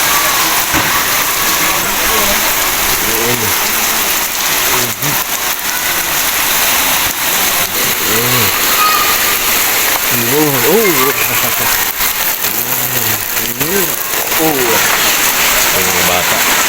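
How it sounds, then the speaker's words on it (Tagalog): Steady heavy rain drums continuously throughout at sea, with a person speaking intermittently over the downpour. "Lalong lumakas yung ulan, mga katuwang."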